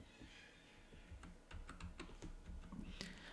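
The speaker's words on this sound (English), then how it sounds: "So I type the password here" Soft, quick keystrokes on a computer keyboard tap out a password in a quiet room, faint and close, the clicks growing denser in the second half.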